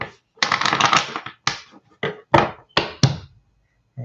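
Tarot cards are shuffled by hand in a series of sharp riffling bursts and crisp slaps, each separated by short pauses, close and fairly loud with no talk.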